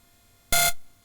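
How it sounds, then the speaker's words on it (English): Space shuttle touching down in a flight simulator game, a single short loud burst of buzzing tone lasting a quarter second amid near silence. "That was the sound of the shuttle touching down."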